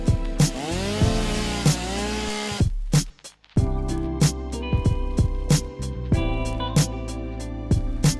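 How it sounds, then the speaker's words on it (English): A chainsaw in the factory-building game Satisfactory revs in a long sustained whine, then cuts out briefly before returning as a rapid series of sharp chopping bursts as trees and plants are cleared nearby, with no talking. "Now all we have to do is grab our chainsaw and clear the area."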